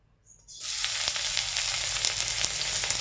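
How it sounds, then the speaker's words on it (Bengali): Onion drops into hot oil after a brief near-silence, bursting into a loud, steady, close sizzle that continues without any talking. "তেলটা গরম হয়েছে বন্ধুরা আমরা এবার পেঁয়াজটা দিয়ে দেবো"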